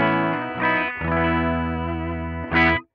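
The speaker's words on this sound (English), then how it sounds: "the louder you have your master, the more power amp distortion you will have" Overdriven guitar amp tone from a Line 6 HX Stomp XL with the master turned up for power amp distortion: a sustained, harmonically rich distorted chord rings out, briefly re-struck, then a final accented hit cut off abruptly.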